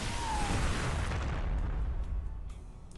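A StarCraft 2 expansion being destroyed by cannon fire, a loud, broad explosive rumble with crackling bursts that holds steady and then fades away near the end, with no voices.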